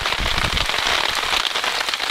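Steady rain pattering on a surface at an off-grid camp, a dense continuous wash of drops with no voices.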